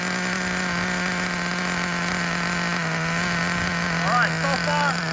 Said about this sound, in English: Alright, idle is dropping as it should.